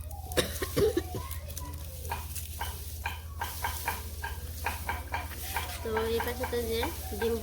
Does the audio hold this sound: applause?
no